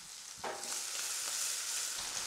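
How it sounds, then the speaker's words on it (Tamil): Finely chopped small onions with cumin seeds hit a hot pan and sizzle, a steady bright crackling hiss that jumps louder about halfway through the first second and holds close and continuous to the end. "இதை சேர்த்து நல்லா வதக்கி விட்டுக்கலாம்."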